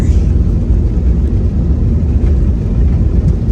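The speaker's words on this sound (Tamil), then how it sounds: "டம்முன்னு ஒரே ஒரு சவுண்டு. அது டயர் ஓடுற சவுண்டு" Airplane tyres rolling on the Chennai airport runway just after landing, a loud steady low rumble of wheels and engine noise heard from inside the cabin, with no talking.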